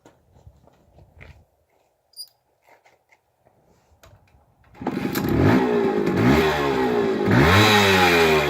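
Small motorcycle engine ridden away after quiet handling sounds, then a loud, close buzzing roar that climbs and falls through repeated revs and gear changes.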